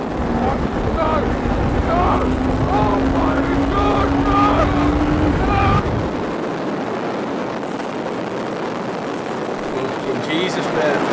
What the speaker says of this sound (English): 120 mile an hour wheeler there with a guy on the back